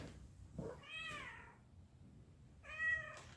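A cat meows twice, one drawn-out call and a shorter one about two seconds later, fairly close against a quiet room with low background rumble and no talk.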